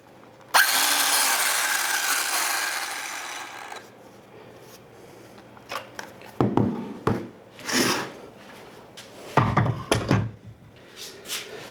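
A Ryobi power tool fitted with a CEENR aftermarket battery runs in one loud, steady burst for about three seconds, then stops. Several shorter knocks and handling rustles follow.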